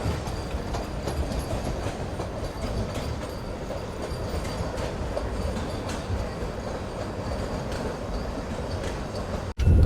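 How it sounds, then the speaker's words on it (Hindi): A Mysuru–Chennai Vande Bharat Express pulls out of Katpadi Junction with a steady, dense rumble of wheels and carriage noise heard from on board, continuous throughout and ending in a sharp thump. "और फाइनली हम लोग काटपाड़ी जंक्शन से डिपार्ट कर रहे हैं।"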